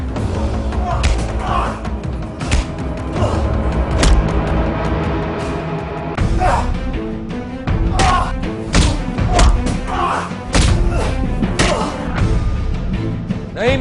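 Repeated heavy thumps and thuds of blows landing during a beating in a Hindi TV drama, coming in uneven bursts over a dense mix of background music and shouting voices.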